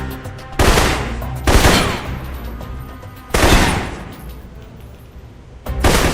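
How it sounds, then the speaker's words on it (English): Assault rifle gunfire in the PC shooter Alpha Protocol, four heavy, booming bursts at irregular intervals, each decaying into a rumbling tail, loud and close with no talking. "For long-range encounters, the assault rifle's the key."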